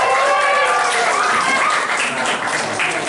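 Applause for the women from a congregation at a church retreat, many hands clapping steadily under loud cheering and whooping voices that rise and fall over the clapping.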